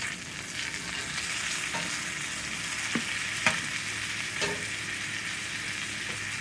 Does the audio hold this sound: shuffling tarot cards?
no